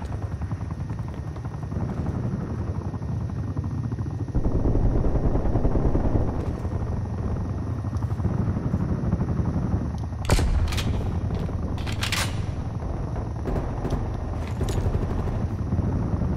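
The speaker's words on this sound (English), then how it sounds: "Hostile attack helicopter inbound." A hostile attack helicopter in Call of Duty Black Ops Cold War drones with a loud, steady rotor thump throughout, broken by sharp bursts of gunfire in the latter half.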